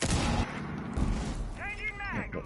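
Video game gunfire in a competitive match, a few sharp shots and bursts mixed with game effects, partly under a commentator's talk.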